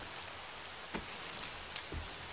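Steady rain in the 7 Days To Die survival video game, a dense, even hiss of falling drops at low volume with a couple of faint soft taps.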